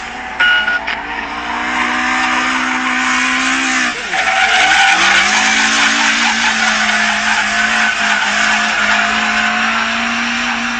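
A Squeeze AE86 race car in Forza Motorsport drives hard with a loud, continuous engine howl and sustained tire squeal, its pitch dipping briefly around a shift before climbing again, with no talk over it.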